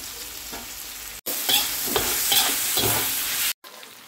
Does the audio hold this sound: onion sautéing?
yes